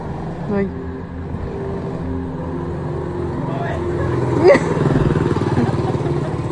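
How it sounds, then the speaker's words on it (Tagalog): A small mini motorcycle engine runs nearby with a steady buzzing drone that rises and grows slightly louder toward the end, while a voice speaks briefly over it. "one of his friends was testing a mini motorcycle where they live"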